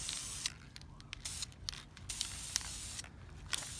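Red spray paint hissing from an aerosol can in a series of bursts, applied thickly while upgrading a lawn mower; the broadband spray comes in repeated short and longer passes with brief pauses between, fairly close and with no talk.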